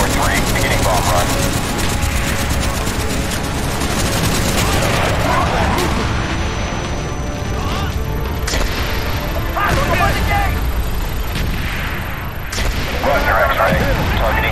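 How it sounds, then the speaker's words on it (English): Aircraft bomb run in Call of Duty Black Ops: loud, dense rolling explosions and booming blasts pound continuously, with sharper bursts near the middle and end and radio voices talking underneath. "VF-143, beginning bomb run."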